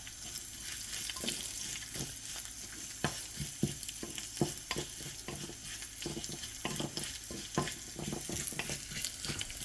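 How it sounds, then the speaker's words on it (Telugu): Tempering spices crackle and sizzle in hot oil while a utensil repeatedly scrapes and taps the pan, close by, in an uneven rhythm. "ఇప్పుడు పోపు కూడా వేసేస్తున్నానండి"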